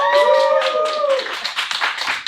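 A comedy club audience claps and cheers when asked to make noise, a whoop rising over scattered rhythmic clapping that grows into a busier patter, with voices mixed in.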